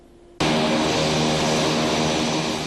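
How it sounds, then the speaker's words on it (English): A fixed-wing propeller airplane at Heidelberg Army Airfield bursts in loudly after a brief quiet moment, then holds a steady, close engine and propeller drone with a sustained buzzing hum and no talking. "The buzz of airplanes over the Heidelberg Army Airfield is a thing of the past."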